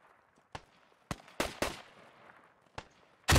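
Heavy incoming gunfire in the tactical shooter Squad: scattered sharp shots and short bursts crack at irregular intervals, some distant and some close and loud, ending in a sudden loud blast.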